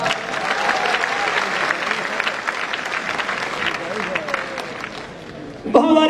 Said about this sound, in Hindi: बड़े प्यार वाली जोरदार तालियों के साथ।